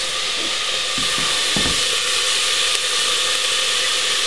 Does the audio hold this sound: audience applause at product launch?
no